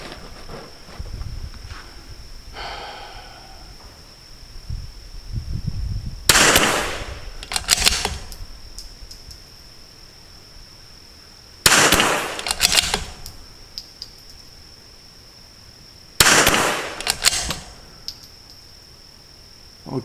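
Three loud, sharp rifle shots are fired from a sandbag rest outdoors, spaced about five seconds apart, each with a brief echo tail over a faint background of insects.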